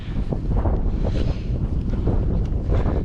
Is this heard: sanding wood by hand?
no